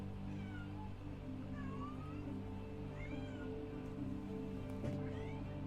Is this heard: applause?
no